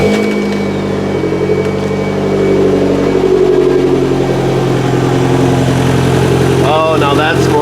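A Toyota MR2's 3S-GTE turbo engine runs close and loud, a steady idle hum that shifts pitch slightly, with a voice speaking near the end.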